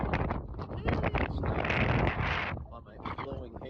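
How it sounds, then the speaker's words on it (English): Strong gusts buffet the microphone outdoors at the Stone of Destiny site, a loud, continuous rumbling roar that swells and dips throughout, with a voice talking underneath. "it's blowing here. It's very windy."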